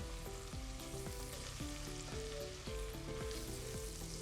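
Onions frying in a pan on the stove, a steady sizzle running the whole time, with a melodic background tune playing over it and no talking.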